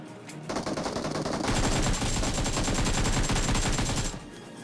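Rapid automatic gunfire in the battle royale game BGMI rattles out in a dense, loud burst lasting several seconds, with no voices over it.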